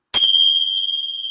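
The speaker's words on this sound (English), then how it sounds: "So let's begin with the bell." A single bell struck to open a yoga class rings out loud and close with one bright strike, then a clear sustained tone slowly decaying on its own.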